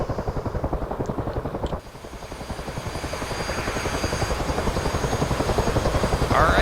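Military helicopter idling on the helipad of a USS Constellation frigate in the DCS World flight sim, a loud steady rotor chop with rapid thumping blades that swells gradually, with no talking.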